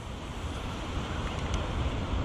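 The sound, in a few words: strong gusty wind on the microphone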